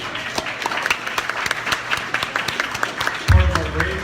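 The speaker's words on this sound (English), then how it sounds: "give them a round of applause" An audience at a candidates forum applauds with steady, dense clapping for several seconds, and a voice begins speaking near the end.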